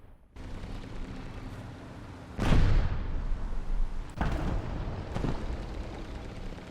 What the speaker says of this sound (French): La bombe sur Nico